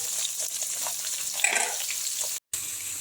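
Dried red chillies and garlic fry in hot oil for a bilimbi pickle with a steady, close hiss and faint crackles, stopping briefly near the end before resuming; nobody speaks.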